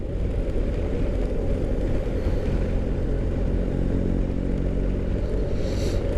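A car cruises along on a gentle ride, its engine and road noise forming a steady, loud low rumble that holds constant from start to finish with no speech.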